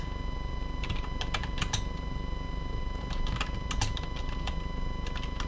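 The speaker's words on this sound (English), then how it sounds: "I'm trying to balance a baby and type at the same time" Keys clatter on a computer keyboard in short irregular bursts, close and clear over a steady low hum.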